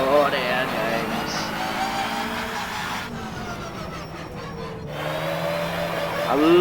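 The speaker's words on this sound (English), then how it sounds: "I love the sound of that turbo as it winds down while you're sort of not got your foot on the accelerator." A national hot rod stock car in rFactor on a short oval, its turbo whining and winding down with the throttle lifted, a steady droning engine tone that dips and swells, with a voice talking over it.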